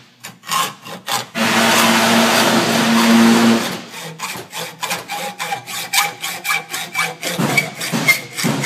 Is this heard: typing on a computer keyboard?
no